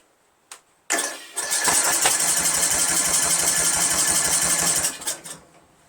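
A Briggs & Stratton 17.5 HP engine on a Craftsman lawn tractor cranks over with the starter without catching. The loud, steady churning runs for about four seconds, with a brief click before it and the motor winding down at the end.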